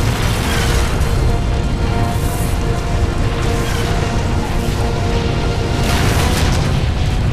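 Missile impacts from incoming LRMs in the MechWarrior 4: Vengeance game, rendered as a dense, continuous barrage of loud booming explosions with crashing debris that never lets up.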